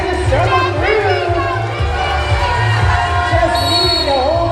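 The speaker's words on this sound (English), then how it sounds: "Cheering from the crowd." Crowd at a roller derby bout cheering and shouting in a large echoing hall, a continuous roar with excited voices and an announcer talking over it.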